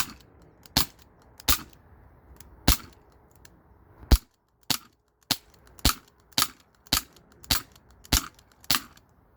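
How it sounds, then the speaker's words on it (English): A black Glock 19 Gen 3 replica BB pistol powered by CO2 firing .177 rounds, emptying the magazine in about fourteen sharp, close pops that start a little spaced out and then come in a quick, even rhythm. "All right, you guys, mag dumping. This is the Glock 19 Gen 3, the black one, same CO2."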